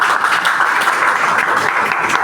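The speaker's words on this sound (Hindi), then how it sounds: "आप लोग तालियां बजाते हैं?" A classroom of students claps briefly, the clatter of hands dense and fairly loud across a short burst without speech.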